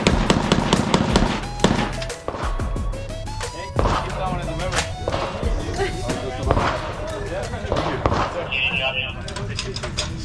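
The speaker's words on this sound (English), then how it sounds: "Scar, first time shooting it, pretty fun." A SCAR rifle fires at an outdoor shooting range expo, with repeated sharp shots over steady background crowd chatter and talking nearby.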